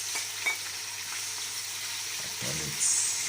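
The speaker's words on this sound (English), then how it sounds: "I'm frying the onions well." Onions sizzle and crackle in hot oil, a steady frying hiss with a few stirring scrapes, close and moderately loud.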